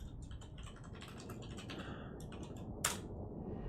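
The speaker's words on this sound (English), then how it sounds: "I'm just typing something here." Typing on a computer keyboard during a Total War strategy game session, a quick patter of light key clicks near the microphone, ending with one sharper key strike before a brief pause.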